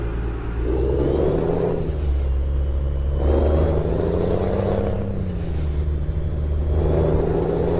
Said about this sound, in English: get to listen to this truck a little bit.